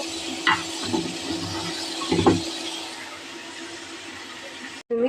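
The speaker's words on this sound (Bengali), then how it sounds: "আলুগুলো একটু ভাজা নিতেছি" Oil sizzles steadily in a pan as potatoes fry, while a utensil scrapes and clinks a few times, close by, with a brief clatter near the start and middle.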